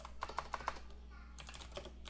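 Rapid keystrokes on a computer keyboard during website coding, a close burst of four crisp clicks followed by lighter, scattered taps over a steady low hum.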